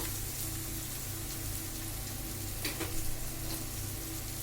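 Potatoes and onion frying over low heat in a pan with garlic paste, a steady soft sizzle with a few brief stirring scrapes near the end, close and alone without talk.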